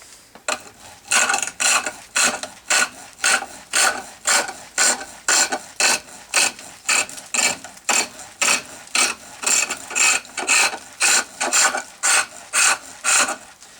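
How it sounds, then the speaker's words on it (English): A roughing gouge cuts a spinning wooden rolling pin blank on a lathe, giving a steady run of rhythmic rasping scrapes, one per revolution-like pulse, close and loud with no talk. "the first chisel we're going to use is the roughing gouge. This continues the rounding process."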